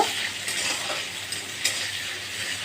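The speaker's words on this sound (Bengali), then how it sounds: "এবার পেঁয়াজ কুচি দিয়ে দিলাম ভালো করে পেঁয়াজটাকে আমি লাল করে আমি ভেজে নেব" Chopped onion fries in oil with whole dry chilli, cumin and bay leaf, giving a soft, steady hiss with a couple of light utensil taps.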